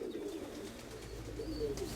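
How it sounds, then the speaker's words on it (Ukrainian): Domestic pigeons coo softly in low, repeated throaty phrases close by, with faint chirps and light background noise and no speech. "Гарні голуби"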